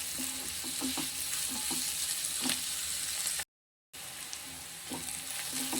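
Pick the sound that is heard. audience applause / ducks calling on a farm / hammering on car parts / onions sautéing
onions sautéing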